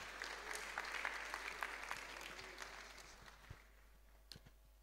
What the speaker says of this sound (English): Please, let's give him a round of applause as he comes.